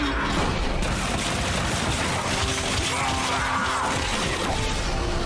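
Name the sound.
enemies smashed into floor, Marvel Rivals video game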